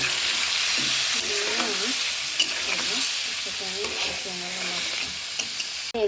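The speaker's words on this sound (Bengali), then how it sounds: "মাছ আর মশলা একসাথে আমি কষিয়ে নেব।" Rohu fish pieces and spice paste fry in hot oil, a dense, even sizzle with intermittent scraping strokes as they are stirred together, close and steady with no talking.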